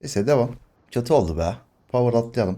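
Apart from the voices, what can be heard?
No everyday noises stand out.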